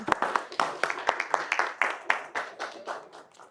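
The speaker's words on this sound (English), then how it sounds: "Give her a big round of applause." Applause greets an executive chef being welcomed as the first presenter at a morning event, heard as sharp, uneven claps close by that gradually thin out and fade toward the end.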